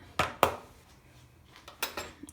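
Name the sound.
mixing bread dough ingredients in a bowl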